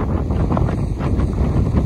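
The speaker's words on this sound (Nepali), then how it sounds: "हावाले उडाइरहेको छ हावाले उडाउन लागिसकेको छ" Strong wind sweeps across Phewa Lake in Pokhara, loud and buffeting against the microphone in a constant roaring rush with gusty swells and no clear voices.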